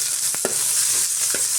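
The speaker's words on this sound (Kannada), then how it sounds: "ನೆಕ್ಸ್ಟ್ ನಾನು ಈರುಳ್ಳಿ ಹಾಕ್ಕೊಳ್ತಾ ಇದ್ದೀನಿ. ಈಗ ಇದನ್ನು ಚೆನ್ನಾಗಿ ಫ್ರೈ ಮಾಡ್ಕೊಳ್ಳೋಣ." Onions and mustard seeds fry in a pan with a steady hiss of sizzling, broken by a couple of brief spatula taps, close and moderately loud.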